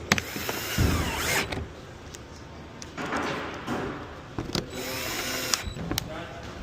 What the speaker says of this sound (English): We're gonna put the screws in.